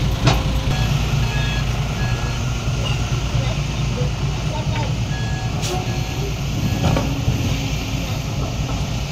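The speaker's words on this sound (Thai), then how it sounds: "ขยับรถออกมาอีกนะครับ" A dump truck from a construction crew's truck-pushing event moves with steady, loud reversing beeps over a continuous engine rumble, the beeping repeating throughout.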